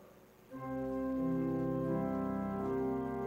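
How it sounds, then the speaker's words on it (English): A church bell rings to open Sunday worship, one struck tone swelling into a long, rich ringing hum that sustains and slowly fades, with no talking. "Let us commence with the bell."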